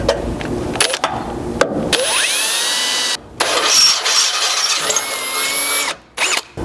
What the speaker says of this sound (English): We're going to start out with an 1/8 inch pilot bit just to make sure we're centered up here, and then work our way up to 5/16.